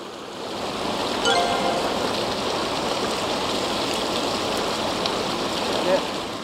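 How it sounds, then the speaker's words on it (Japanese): A mountain river in Okutama in winter flows with a constant, rushing hiss of water close by, steady throughout, with a voice briefly present beneath it. "川の音を聞きながら。"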